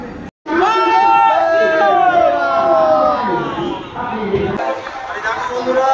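Chatter fills a packed train carriage bound for Howrah during a busy festival season, with one loud voice talking close by over a steady background babble of passengers.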